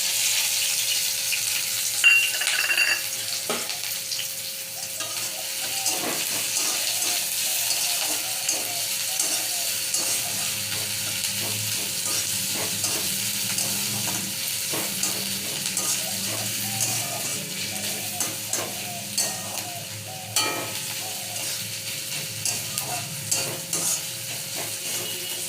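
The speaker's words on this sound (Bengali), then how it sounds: "পেঁয়াজ, লঙ্কা আর রসুন ফোড়ন দিয়ে দিচ্ছি" Onion, chili and garlic frying in hot oil as a tempering for stir-fried data shak, a steady close sizzle with scraping stir and clinks of a spatula against the pan throughout.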